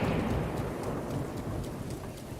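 Low rumbling thunder in the video game Breath of the Wild rolls beneath steady heavy rain, loud at first and gradually easing, with no voices.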